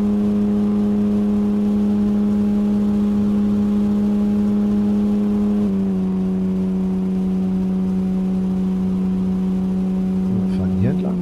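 Car engine droning steadily in the zombie survival game No One Survived, a constant hum that drops slightly in pitch midway, with voices talking over it throughout.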